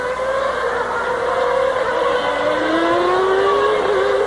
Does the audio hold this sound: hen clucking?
no